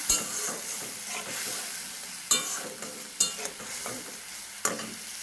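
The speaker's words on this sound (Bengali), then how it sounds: "এখন আমি এই যে মশলাটা গুলিয়ে রেখেছিলাম এটা দিয়ে দিলাম। এখন এটা সুন্দর করে কষে উঠুক।" A spice paste fries in oil in a pan for potol paneer dolma, a steady close sizzle broken by several sharp spoon-stirring clacks and scrapes against the pan.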